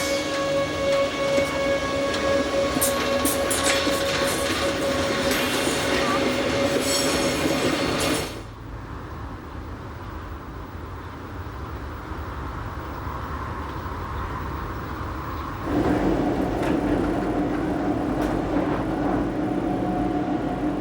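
The Glacier Express train climbs steeply above Bergün in Switzerland, its wheels rumbling and squealing steadily on the rails, with the tone shifting as it passes through a quieter stretch.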